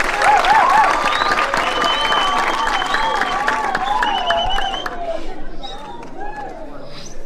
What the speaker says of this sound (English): Give him another hand of applause.